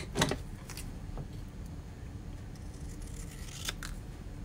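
Scissors trim a paper card in a few quiet, crisp snips, a couple near the start and another pair later, faint and alone against a soft room hiss.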